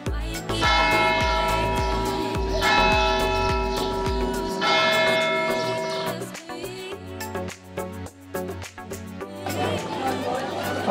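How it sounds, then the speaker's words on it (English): Church bells striking twelve o'clock in Montenegro, loud and close, ringing in overlapping rhythmic peals over a low hum of voices and chatter. "the church bells just sounded 12 o'clock."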